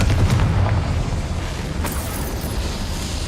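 A fire spell bursts in Hogwarts Legacy as a loud, deep explosive boom that rolls into a rumbling tail, with a brief crackling flare partway through.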